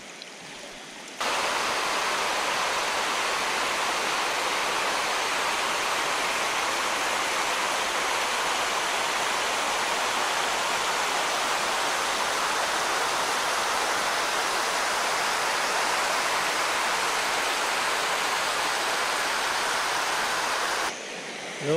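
A mountain river stream flows with a steady, broad rushing hiss that runs unbroken for about twenty seconds, fairly close and even in loudness, with no voices.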